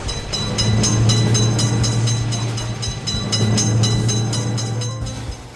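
A train rolls through a motor vehicle railroad crossing, a steady loud rumble with rhythmic wheel clicks over the rails and a sustained low hum throughout, no horn evident.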